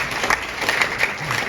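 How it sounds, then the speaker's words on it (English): A brief burst of audience applause at a gathering, many hands clapping densely and close for a moment with no clear voices over it. "Please give me a round of applause."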